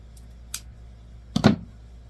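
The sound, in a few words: scissors cutting 1.5 inch ribbon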